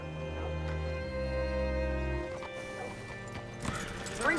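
A saddled horse in a Western open-world game, hooves clip-clopping and a short snort or whinny as it is brought to a halt, with a low drone underneath and no talk.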